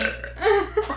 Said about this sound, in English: I can't burp, so she's doing that for me.